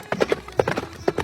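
Horse hooves clip-clop in a quick, steady rhythm as a king rides out on horseback, close and fairly loud with no one talking.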